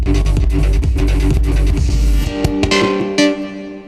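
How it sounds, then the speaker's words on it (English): A synthesized melody fill plays in a studio track, with sustained tonal notes over heavy low thumps, then breaks into swelling reversed reverb tails that rise into sharp, abrupt cutoffs. "we brought the melody back as a fill again with some reversed reverb"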